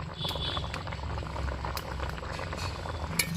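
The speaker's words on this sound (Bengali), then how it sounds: "এবার আর একটু ফুটে উঠলে আমি নামিয়ে নেব।" Eggplant kofta curry broth boils in a pot, a steady close bubbling and gentle rattling simmer throughout, with no talking.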